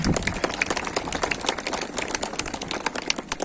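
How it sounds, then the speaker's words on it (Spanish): A crowd claps for the parish priests at a church ceremony for the crowning of the Virgin Chanka in Challabamba: dense, steady applause of many hands that holds for several seconds without talk. "Vamos a darle aplauso a nuestros párrocos también, por favor."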